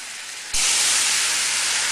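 Fish stock poured into a hot pan of flour, a sudden loud sizzling hiss that bursts in and holds steady, close and bright, after a quieter background.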